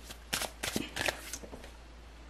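Tarot cards being shuffled by hand, a few quick riffling bursts close to the ear and faint, spaced in short clusters over a quiet background hum.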